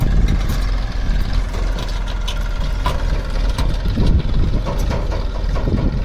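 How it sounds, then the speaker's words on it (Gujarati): A heavy diesel tractor engine rumbles steadily up close while reversing near a well, its low throb continuous and loud with slight shifts in load. "ટ્રેક્ટર આવી ગયું છે ને રિવેસ મારે છે"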